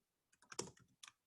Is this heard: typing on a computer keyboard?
yes